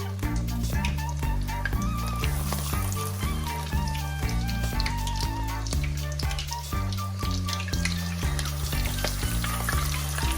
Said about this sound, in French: on la trempe dans la pâte à tempura et on la met dans l'huile bouillante